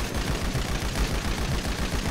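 Rapid, continuous gunfire from a weapon in the video game GTA 5 on PC, a dense run of loud repeated shots with no pauses and no talk over it.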